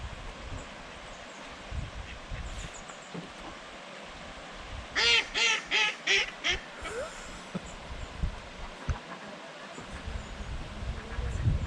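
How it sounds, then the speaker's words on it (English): Ducks quack on an outdoor walk by the water, a quick run of about six loud, close quacks in the middle, with scattered quieter calls before and after over faint background noise. "The duckies."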